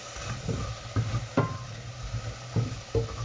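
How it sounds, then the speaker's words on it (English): Lentils are stirred in a stainless steel pan, with soft scraping strokes and light clinks over a faint sizzle, recorded close and fairly quiet. "Now this is a stainless steel pan, so I don't want it to actually get too hot. I will just stir that around"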